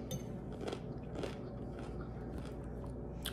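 Someone bites into crisp, fresh cucumbers, with a few close crunchy bites and chewing over a steady background hum.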